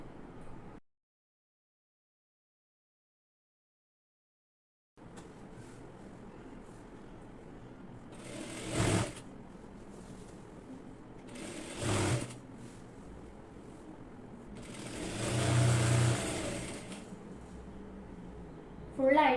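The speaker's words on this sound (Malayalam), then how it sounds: "ഇതുപോലെ കറക്റ്റായിട്ട് ഞാനിപ്പോൾ വെച്ചിട്ട് 1/2 ഇഞ്ച് വിട്ടിട്ട് സ്റ്റിച്ച് ചെയ്ത് കൊടുക്കുകയാണ്" A sewing machine stitches a saree hem half an inch in from the edge, running in a few short bursts over a steady low hum after a silent gap at the start.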